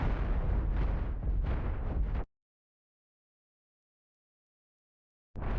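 Heavy ship weapons strike home in the space game Cosmoteer as a dense, loud roaring barrage of impacts that runs for about two seconds, cuts to silence, and then resumes at the very end.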